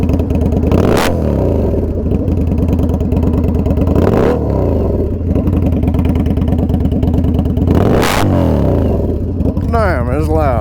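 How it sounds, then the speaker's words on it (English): A loud Indian Scout Bobber motorcycle idling with a rough, throbbing aftermarket exhaust, punctuated by three sharp throttle blips that rev up and quickly drop back. "That's pretty much what it sounds like at idle. It sounds really good. And we'll go ahead and give it a few little revs."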